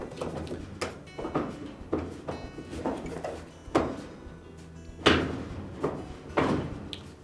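A Frigidaire dryer door is lifted off its hinge, giving a string of light knocks, clunks and rattles spaced a second or so apart at close range with no talk.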